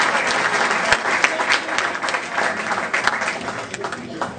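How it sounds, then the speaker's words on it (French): Crowd applause fills a French political rally for the PRG circle of Aulnay-sous-Bois, steady dense clapping from a large audience throughout, with a few louder claps standing out. "je voudrais qu'on l'applaudisse bien fort et toute son équipe."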